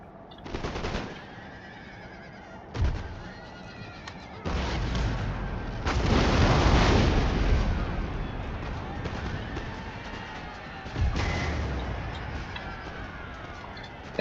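Cannons and gunfire boom and crackle in a strategy video game battle, with sharp bursts and sustained rumbling volleys spread across the scene, some louder and closer, others distant.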